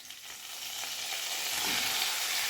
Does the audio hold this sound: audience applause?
no